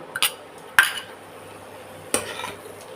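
A utensil clanks against a pan as fried prawns are stirred into kochur loti, three sharp metallic knocks spaced over a few seconds with soft scraping between them, close and alone.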